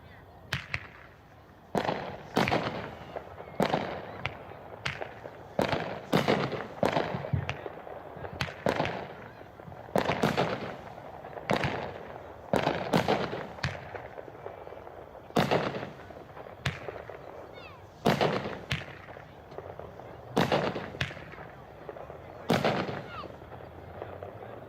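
Hot Shot Purplicious, an 8-shot 200-gram firework cake, fires outdoors with a series of sharp launch thumps and crackling bursts at irregular intervals, loud against a quiet background.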